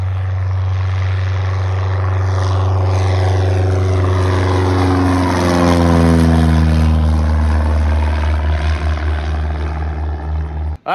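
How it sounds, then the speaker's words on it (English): A small propeller airplane roars loudly and steadily as it takes off on a first solo flight, engine pitch rising and then easing as it pulls away, ending abruptly. "That's Steve Jackson's first solo, and he's off."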